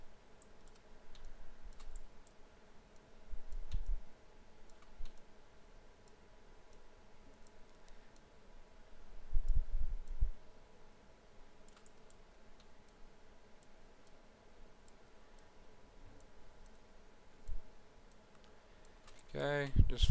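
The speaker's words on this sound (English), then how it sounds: "I'll shift click and drag" Scattered computer mouse clicks from shift-click-and-drag edge selection during 3D character face modeling, faint and sparse with a few slightly louder taps.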